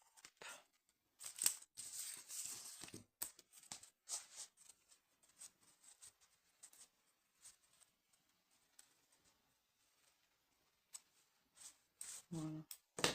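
Scissors snipping embroidery thread at a craft-shop stitching event, a few quick sharp snips and clicks near the start, then quiet handling noises and faint talk in the background.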